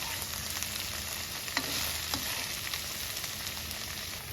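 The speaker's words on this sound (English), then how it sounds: "Sauté until there is no slime remaining in between the okra slices." Okra slices for bhindi masala sauté in a pan with a steady, soft sizzle, broken now and then by faint clicks of stirring, with no voices.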